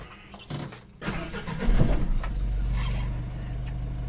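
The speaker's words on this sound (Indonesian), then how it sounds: "Kita coba nyalakan mesinnya." A Mitsubishi L300 Euro4 turbo pickup engine cranks briefly and catches around the one-second mark, then settles into a steady, low idle hum, close and even.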